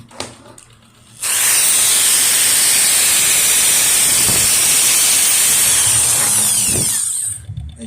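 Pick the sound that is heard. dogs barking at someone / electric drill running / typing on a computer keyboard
electric drill running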